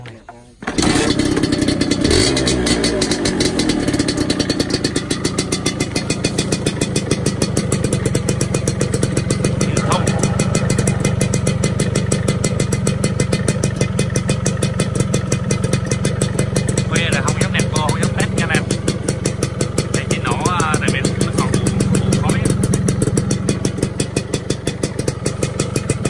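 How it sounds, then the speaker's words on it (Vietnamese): A motorcycle engine cranks and catches, then idles steadily for the rest of the clip, loud and close, with faint voices in the background. "Em nổ nhẹ cái ha, anh sai bên em nổ máy nhẹ cái."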